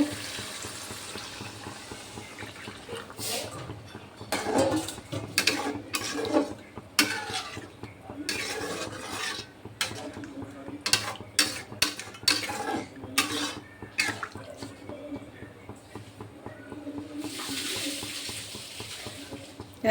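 Water poured into a pan of rohu fish curry with fried fish pieces, a splashing pour amid repeated clinks of utensil against pot and stirring scrapes, with a sizzling wash near the end and no speech.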